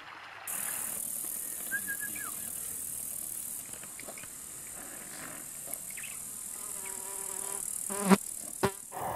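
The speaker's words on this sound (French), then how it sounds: "Il y a plus de mouches chez qui?" Flies buzzing outdoors in Arkhangai, Mongolia: a high, steady insect whine with intermittent closer buzzes passing by, over quiet rural ambience and a few brief knocks near the end.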